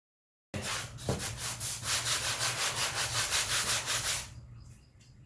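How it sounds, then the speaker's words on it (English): A 220 grit sand block rubs back and forth across a painted wall during a room repaint, steady rhythmic scraping strokes, close and fairly loud, that stop abruptly near the end. "this is just a 220 grit sand block"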